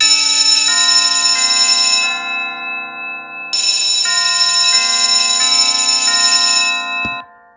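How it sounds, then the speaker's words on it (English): Tubular bells ring out clear, sustained tones in a school-themed music production, struck in two long phrases of stepping pitches that decay cleanly, with a brief knock near the end. "so I decided to add in these tubular bells here."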